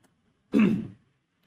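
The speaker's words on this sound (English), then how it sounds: "clearing his throat, he began" A man clears his throat once, a short rough rasping burst lasting about half a second, close and distinct against near silence.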